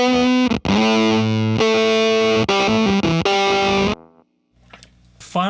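A distorted electric guitar plays a loud, gritty phrase of sustained notes and choppy stops, with a shreddy, punk-rock edge. It cuts off abruptly and leaves quiet handling noise behind.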